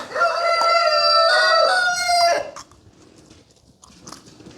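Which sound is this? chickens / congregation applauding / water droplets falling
chickens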